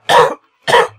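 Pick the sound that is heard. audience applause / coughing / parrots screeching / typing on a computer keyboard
coughing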